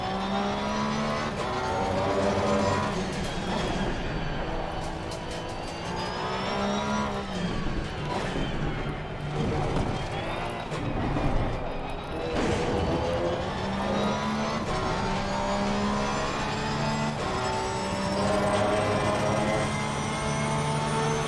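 A Porsche race car in a sim racing game at Barcelona roars steadily throughout, engine pitch climbing and dropping through gear changes, loud and close with no talk.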